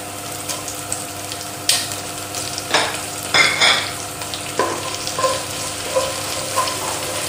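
Green chillies and curry leaves crackle and sizzle in hot oil with browned ginger and garlic, prepared for a Kerala-style beef curry. Irregular spatters and spoon scrapes pop up over a steady low frying hiss, with no speech.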